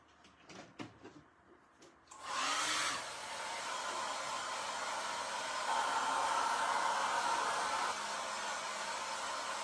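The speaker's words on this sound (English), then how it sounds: "Let's dry it first, though, so I don't smear something up." A hair dryer switches on after a few handling knocks and runs steadily, blowing to dry stencil ink on a shiplap surface, a constant close whooshing hum with a slight shift partway through.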